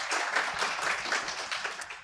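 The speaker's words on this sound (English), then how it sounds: "A round of applause for them, please." Audience at a fintech conference claps in a short burst of moderate applause, steady and fairly close, with no talk over it.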